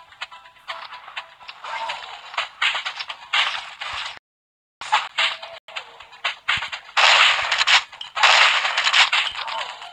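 Gunfire in the blocky shooter Pixel Gun 3D, a busy run of sharp cracks and rattling bursts that come in clusters and pause briefly, with bits of speech in between.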